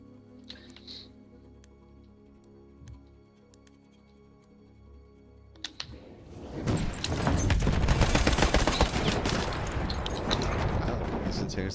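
Heavy gunfire from a Battlefield 1 match erupts after a quiet, sparse start and builds into a loud, continuous barrage of overlapping shots.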